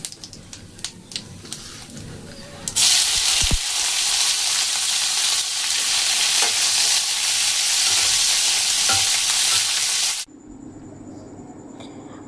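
Bay leaf and cumin hit hot oil with a sudden, loud, continuous sizzle that crackles steadily for about seven seconds, then cuts off, leaving quieter kitchen noise. Brief clatters come before it.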